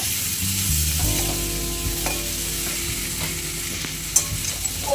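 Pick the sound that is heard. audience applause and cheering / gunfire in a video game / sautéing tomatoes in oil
sautéing tomatoes in oil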